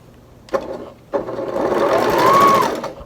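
Sewing machine stitching a quilt seam, two short starts followed by a steady, rising mechanical whir of the needle running close by for a couple of seconds.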